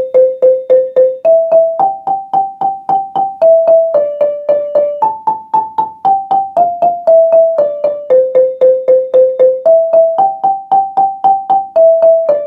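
A marimba plays the Shamwari lead line an octave above the tenor part, with sticks alternating in rapid, even running strikes. The wooden notes are loud and close and move through the pattern continuously, with no talking.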